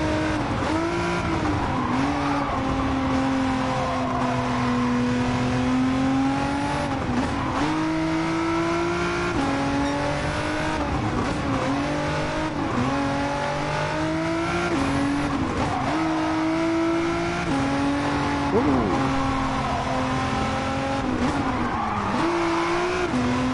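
Race car in Gran Turismo 7, driven with a steering wheel and pedals, a loud continuous engine drone rising and falling through repeated upshifts and downshifts, with brief tire squeal in the corners.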